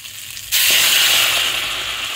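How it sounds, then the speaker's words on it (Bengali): Hot water hits a pan of frying potato and pointed gourd curry, setting off a sudden loud burst of sizzling and hissing that stays strong for about two seconds, settling slightly toward the end. "এবার গরম জলটা এর মধ্যে দিয়ে দেবো।"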